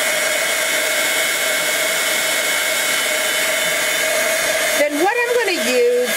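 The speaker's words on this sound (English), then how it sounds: "I am going to bring in that heat gun, maybe dry it a little bit longer now" Heat gun blowing steadily over pigment ink on paper, a loud continuous whirring hiss that wavers in pitch near the end as it is moved or switched off.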